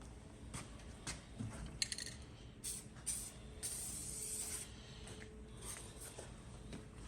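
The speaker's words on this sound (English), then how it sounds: "When you're done spraying, spray upside down for a second." Aerosol spray paint can held upside down and sprayed briefly to clear its tip, a short faint hiss in a quiet room with small clinks and handling noises around it.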